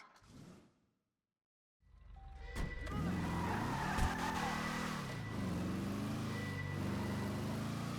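A stolen getaway car in GTA 5 roars to life after a brief silence, its engine revving hard and shifting pitch as tires squeal and skid through turns, loud and close throughout, with no talking.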